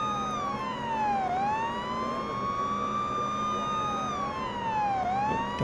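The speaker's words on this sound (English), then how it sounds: "I usually like to do lights and sirens leading up to the driver's last known location" Police car siren in the Police Simulator video game wails continuously, sweeping up and down in steady cycles over low engine rumble, loud and alone with no talk.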